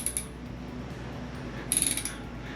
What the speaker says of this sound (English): Now we need to rotate the alternator to rotate the crankshaft, easiest way.